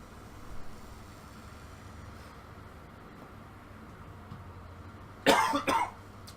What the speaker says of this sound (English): so I'm still coughing a little bit